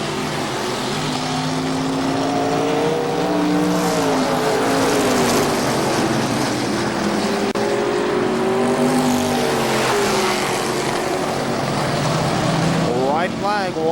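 Legends race cars roar around the KilKare Speedway oval in a steady, loud pack of engine noise that rises and falls as the cars pass, with a track announcer talking over it throughout.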